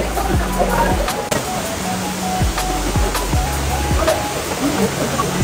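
A waterfall inside the Cloud Forest conservatory in Singapore gives a steady, broad rush of falling water, with people talking and footsteps around it.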